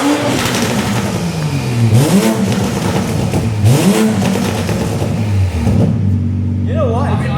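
A Toyota Supra engine revs hard outdoors, its loud pitch sweeping up and down through repeated throttle blips before settling to a steady idle, with voices talking over it.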